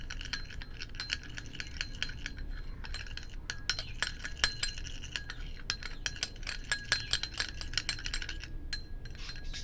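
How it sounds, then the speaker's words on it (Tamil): A paste of alum, multani mitti, rosewater and almond oil stirred in a bowl, with a steady run of light clinks and scrapes as a utensil works the mixture, close and fairly quiet. "இப்போ இந்த பொருளை சேர்த்து நல்லா இந்த மாதிரி கலக்கிக்கணும்"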